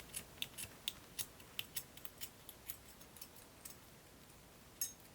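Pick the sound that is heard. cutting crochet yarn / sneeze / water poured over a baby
cutting crochet yarn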